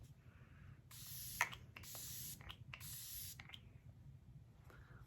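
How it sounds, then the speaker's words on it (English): Setting spray misted onto a face during a makeup routine: three short, close hissing bursts from a spray bottle, each about half a second long, with quiet pauses between them and faint softer hisses around them. "When you're applying setting spray,"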